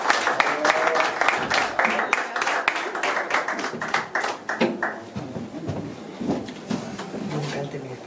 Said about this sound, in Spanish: pues un aplauso para la Cari y para Rubinario